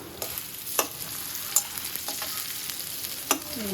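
Onions soften in a hot pan with a steady, close sizzle of frying, broken by a few sharp scrapes and clinks as a utensil stirs them.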